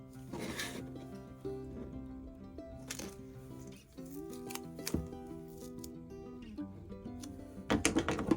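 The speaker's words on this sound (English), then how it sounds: "I just tend to at least give it most of a snip." Scissors snipping through fabric while lacing and framing a stitched embroidery piece, several close, crisp cuts spaced irregularly over a faint background hum, with a final cluster of quick snips.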